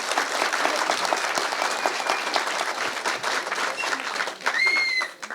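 Audience applause at a festival master class, sustained dense clapping from a crowd that holds steady for several seconds and then tapers, with a brief whistle near the end.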